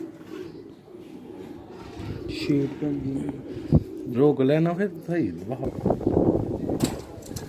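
A Batera breed pigeon coos nearby in soft, repeated throaty calls, mixed in with someone talking over them.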